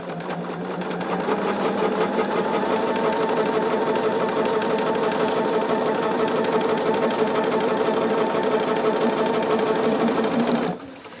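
A sewing machine stitches quilt block corners, a fast, steady mechanical rattle running loud and close for about ten seconds before stopping abruptly.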